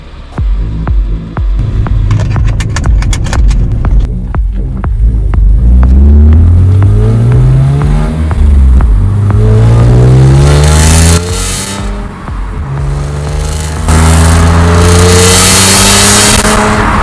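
A BMW E46 M3 with the SMG gearbox accelerates hard while driving, its engine rising through repeated climbing revs with gear changes between pulls, loud and close with road and wind noise underneath.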